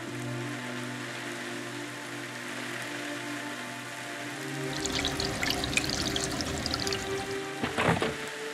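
Heavy rain pours down during a sudden storm with strong wind, a steady hiss building into a louder, dense patter on surfaces partway through, with a brief heavier splash near the end and no talk.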